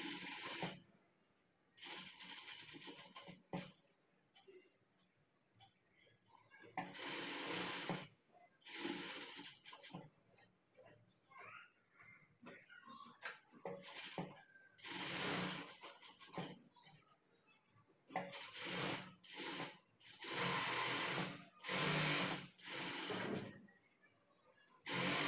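Tailoring sewing machine stitching a garment seam in repeated loud bursts of rapid whirring separated by quieter pauses with small handling noises, close and with no talk.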